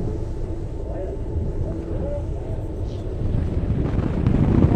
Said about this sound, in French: Il y a un peu de vent, je pense.